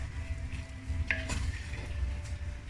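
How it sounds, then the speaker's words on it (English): A spoon stirs prawns in a pot of tom yam soup over low heat, with a few metallic scrapes and knocks against the pot over a steady background hum. "Now you add in the prawn into it. Give it a good mix."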